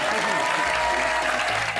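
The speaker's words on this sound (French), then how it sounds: "On peut l'applaudir" Steady applause from a crowd, dense clapping filling the room for a couple of seconds.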